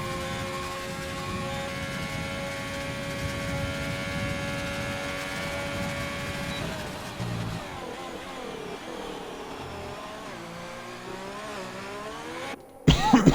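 A Formula 1 car's engine from a racing video game, running a hot lap at the Chinese circuit: a steady, loud high-pitched drone with shifting pitch that eases off around the midpoint, then a brief sharp burst at the very end.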